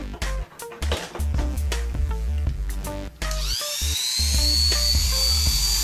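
An Oster Turbo A5 hair clipper runs with a steady electric motor whine that starts after a few seconds of clicks and knocks, then holds close and continuous to the end.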